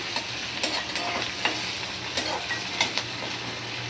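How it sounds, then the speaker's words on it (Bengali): Diced potatoes and sliced onions with a green chilli fry steadily in a pan, a continuous soft sizzle broken by several brief scraping stirs, close and moderately quiet, with no talking. "আলু আর পেঁয়াজ দেখো ভাজা করতে দিয়ে দিয়েছি।"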